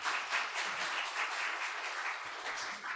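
A congregation applauds at a Korean Sunday church service, welcoming a member who is attending. The clapping is fairly quiet and steady, with a slightly uneven rhythm from many hands, and it continues throughout.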